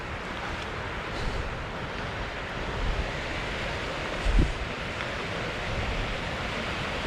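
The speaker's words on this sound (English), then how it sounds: "Going over a rapid creek, and we are taking caution" A rapid creek on the West Highland Way in rainy Scotland rushes continuously, a dense broadband roar with a few louder surges, heard close and alone, mixed with wind.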